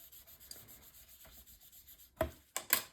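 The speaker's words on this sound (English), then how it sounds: "So once I have it straight, I'll go ahead and burnish this down." Paper is burnished down with a hand tool while a mini album page is being built, producing soft, quiet rubbing strokes followed by a few sharper, louder scrapes near the end.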